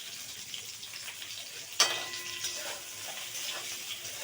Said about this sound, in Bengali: পটলটা হালকা একটু লাল করে ভেজে নিতে হবে।